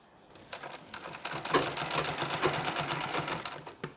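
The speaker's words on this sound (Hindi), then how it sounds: "और ये वाला साड़ी वाला भाग इसे इस तरह से बराबर करना है, और यहाँ तक सिलाई लगा लेनी है।" A sewing machine stitches Nauvari saree fabric, running in a fast steady mechanical chatter, close and clear, with brief starts and pauses and no speech.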